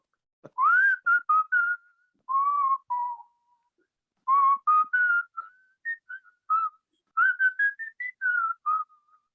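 A person whistles the melody of a song alone, in clear, close phrases separated by short pauses, with no talking over it.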